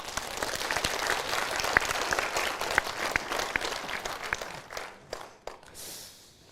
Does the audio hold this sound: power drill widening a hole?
no